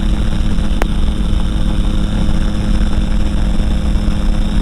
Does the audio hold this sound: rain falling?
no